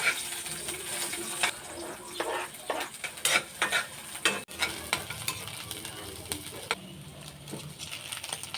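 Sliced onion is stirred into leftover rice frying in a pan for fried rice, with a steady sizzle under repeated scraping spatula strokes and clanks.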